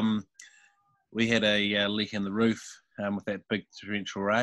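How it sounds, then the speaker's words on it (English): A house cat meows loudly in the background, brief cries breaking through someone talking about a leaky roof after heavy rain. "That's my cat shouting in the background."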